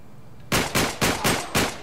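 Sniper rifle fire in Uncharted 3, five sharp loud gunshots in quick, fairly even succession after a brief quiet start, each with a short decaying tail.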